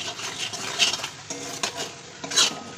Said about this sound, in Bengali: দেখো মশলাটা ভাজতে গিয়ে আমার কড়াইটা একদম উলট পালট হয়ে যাচ্ছে